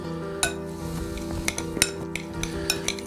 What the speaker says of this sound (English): Mix it up with the avocado.